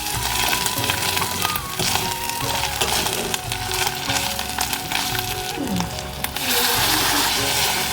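Spice paste with added water cooking in hot oil, giving a loud, dense, continuous sizzle and bubbling close by, with faint stirring sounds mixed through it.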